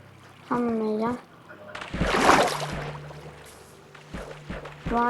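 Water flows in Minecraft as a brief, loud rushing burst amid other game sounds, with a voice talking around it.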